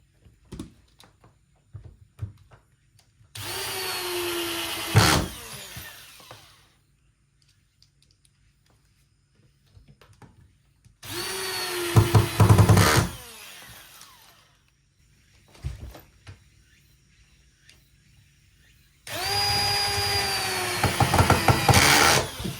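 Power drill driving screws into wood while building a DIY soundproof room: three separate whirring bursts of a few seconds each, close and loud, with quiet gaps and small handling clicks between them.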